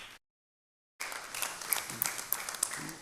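Audience applause at a Lenten talk breaks out after a short silence, a moderately sized crowd clapping fairly quietly in a room.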